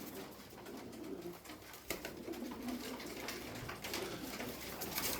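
Taklacı tumbler pigeons coo softly amid a dense, noisy background of constant rustling and bustle.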